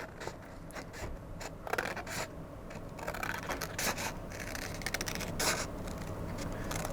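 Scissors cut white paper around a paper plate for a Santa ornament craft, a steady run of close, quiet snipping and rasping scrapes that carries on without talk.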